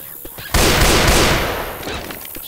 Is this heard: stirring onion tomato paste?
no